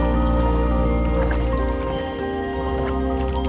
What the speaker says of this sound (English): only by the sound of oars in the water